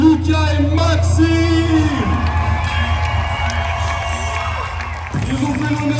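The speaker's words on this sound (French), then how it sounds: "Faites un tonnerre d'applaudissements pour le podium." Crowd cheering and whooping at a CrossFit competition podium ceremony in Réunion, loud and sustained with shouts and yells over background music, fading slightly before a brief swell near the end.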